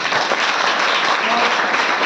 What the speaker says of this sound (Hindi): ताली होना चाहिए जबरदस्त